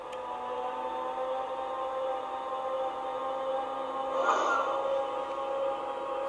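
A model ICE BR 407 Velaro D train sounds its starting-off tone: a steady, quiet electric hum with layered tonal whine, and a brief swell of hiss partway through.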